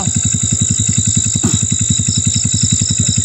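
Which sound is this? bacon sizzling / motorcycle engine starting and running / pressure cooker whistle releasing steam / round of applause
motorcycle engine starting and running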